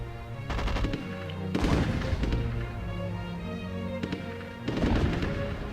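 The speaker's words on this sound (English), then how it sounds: "We'll open fire, we will" Battle gunfire and artillery in the Rise of Nations WWII game, dense bursts of shots and booms layered over a steady rumbling backdrop, with heavy volleys around the start and again near the end.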